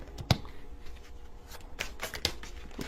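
Tarot cards are shuffled by hand in a few quick, crisp bursts of riffling and slapping, close and fairly quiet, with brief pauses between.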